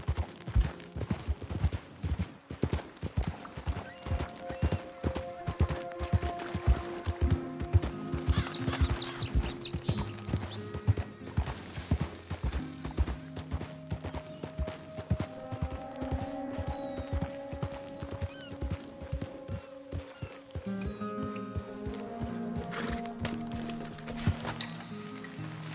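In Red Dead Redemption 2, a horse gallops steadily with a rapid, rhythmic clip-clop of hooves, set against game music, with a brief snort along the way.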